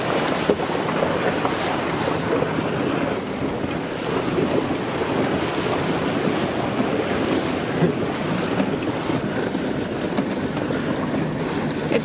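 A 4WD vehicle crosses a shallow rocky creek on the Gibb River Road in Australia, a steady broad rush of water and rumbling heard from close by, mixed with wind buffeting the microphone, with no talking.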